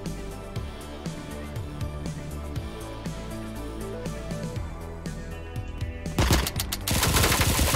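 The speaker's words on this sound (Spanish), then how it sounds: "Ah, disparo doble." Rapid bursts of double-shot gunfire in the video game Door Kickers: Action Squad rattle in a steady stream under background music, ending in a louder, harsher blast of shots.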